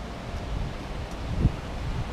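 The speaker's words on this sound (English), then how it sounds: "Too windy here." Gusty outdoor wind buffets the microphone at a backyard grill, a steady low rumble with a sharper gust near the end and no speech.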